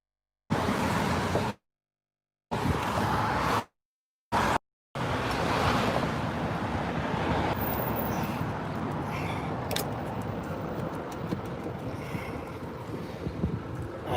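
Hissing air leak on a Freightliner M2 truck beside a busy road, steady broadband rushing hiss with wind buffeting, interrupted by short dropouts early on, then continuous and close.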